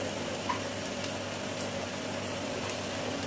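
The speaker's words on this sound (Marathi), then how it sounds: "आता आपलं तेल तापलेलं आहे। आता आपल्याला तळून घ्यायचं आहे।" Chena (cottage cheese) pieces for Odisha chena jhilli sweet frying in hot oil, a steady dense sizzle crackling continuously throughout at close range, with no talking.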